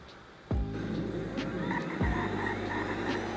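A Tesla Roadster on a race track pulls away hard, its electric drive rising in a loud whine with tire noise, accelerating continuously with a second surge midway, close and unaccompanied by talk.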